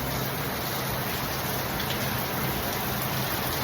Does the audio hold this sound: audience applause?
no